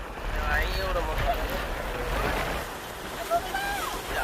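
Water rushes steadily over a large ungated dam with a canal after a cloudburst, a broad, continuous roar close by, mixed with wind buffeting and people talking over it.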